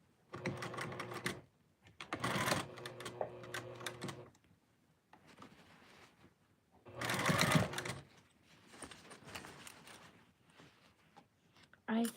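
A sewing machine stitches a sleeve seam from the armpit at a half-inch seam allowance, running in several loud bursts of rapid mechanical whirring separated by short pauses, with some quiet handling noise between runs.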